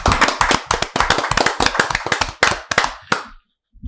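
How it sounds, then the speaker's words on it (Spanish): An audience at a church service claps in a quick, loud, close burst that thins out and stops abruptly near the end. "para el cual un fuerte aplauso"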